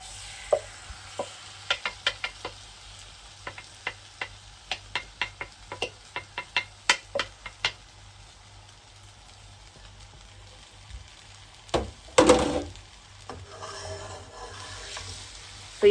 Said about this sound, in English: you basically cook the beef until it is